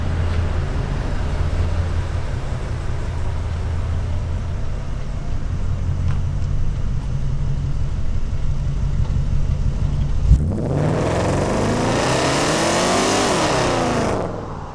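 A Ford Coyote engine in a 1950 Ford F1 truck idles with a steady, slightly uneven rumble, then revs sharply into a loud, rising roar before settling back down.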